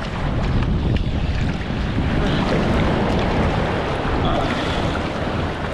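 Rough, choppy sea churns around a small fishing boat, a constant loud roar of waves and wind buffeting the microphone with no break and no speech.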